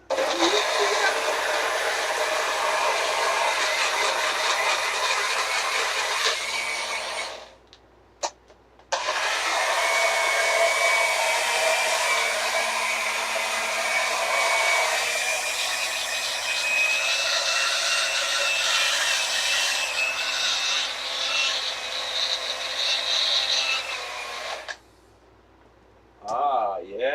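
A blender whirs loudly and steadily as it mixes a vegan protein shake, running for several seconds, cutting out briefly, then resuming before stopping near the end.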